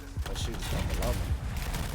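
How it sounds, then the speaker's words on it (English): Rapid bursts of gunfire from a PS4 shooter game, with a Scar rifle in play, crackle through a busy mix of game effects and a voice speaking underneath. "Let's shoot from below me."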